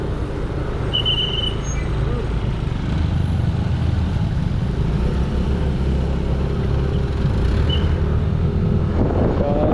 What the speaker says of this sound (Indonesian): Udah ngegas, mobilnya maju lagi.